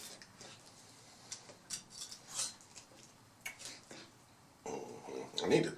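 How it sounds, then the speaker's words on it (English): A knife cuts through a piece of cooked, juicy steak, giving a few faint, close scrapes and light clicks against the plate, with short pauses between strokes. "Cut me a piece of steak."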